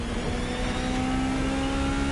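Ferrari Gran Turismo Omologato engine in The Crew Motorfest holding a steady, even rev with a clear sustained tone, close and alone with no voices.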